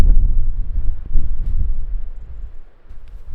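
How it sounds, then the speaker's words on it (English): Wind on a coastal path at sunset buffets the microphone in loud, low rumbling gusts that swell and fade over a few seconds, with no talk. "The wind is blowing from that direction"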